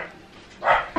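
A dog barks in a short burst, with a second bark starting at the end, fairly close and without speech, as a cat nearby sets the dogs off in a residential neighborhood.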